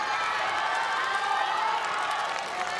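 Crowd cheering for hometown wushu athlete Zhaohua Wu during the men's Daoshu event, a steady wash of voices filling the hall, loud and continuous without pause.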